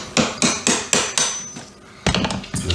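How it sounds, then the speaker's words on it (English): A hammer strikes a chisel to chip cut baseboard trim free in a kitchen, making about eight sharp, ringing knocks in a steady rhythm that pauses briefly before the last few, close and loud. "I'm just going to chip it off of here with the hammer and the chisel"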